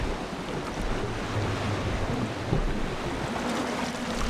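Steady wash of sewer water in Legend of Grimrock 2, a continuous rushing flow with a low rumble, even and unbroken throughout with no voices.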